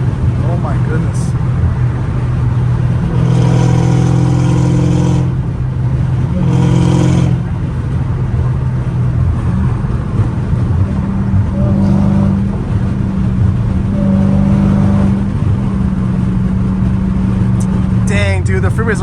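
A loud straight-piped Dodge Challenger Hellcat Redeye engine roars and drones throughout on a Los Angeles freeway, rising and falling as it revs, with people talking over it now and then.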